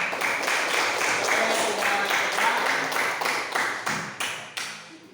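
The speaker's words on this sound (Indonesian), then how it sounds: "Oke, tepuk tangan dulu." Classroom applause from a group of students, steady dense clapping that holds for several seconds before thinning into a few last separate claps, fairly close.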